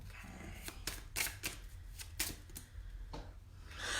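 Soft riffling and snapping of cards being shuffled, several quick bursts at irregular intervals, close and quiet.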